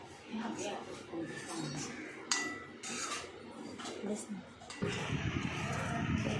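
Roasted vermicelli for kheer is stirred and sautéed in a pan, soft scraping and metallic clinks of a spoon mixing under a person talking throughout.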